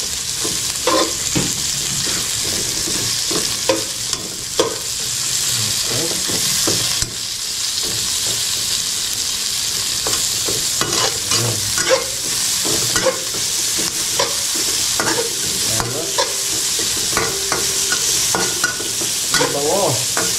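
Onions sautéing in a pan for a Filipino ginataang banana heart and papaya dish, a steady close sizzle broken by frequent scraping and stirring clatters, with no talking.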